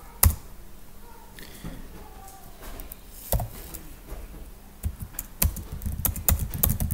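Scattered keystrokes on a computer keyboard while vim commands are entered, with sharp isolated taps and then a quicker run of clicks near the end, close and moderately quiet.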